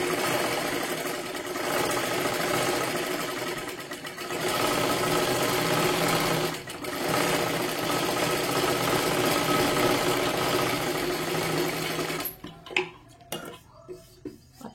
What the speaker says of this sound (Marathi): खालच्या बाजूला पण अशा पद्धतीने पूर्ण सरळ लाईनीमध्ये आपल्याला शिलाई मारून घ्यायची आहे